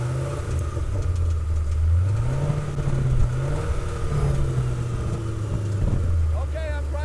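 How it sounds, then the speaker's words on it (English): A classic Ford Mustang at the Cruzin Flat Rock car show idles with a steady low engine rumble, rising as it is revved twice, with crowd noise and voices nearby. "Joe's going to crank up this Mustang for us"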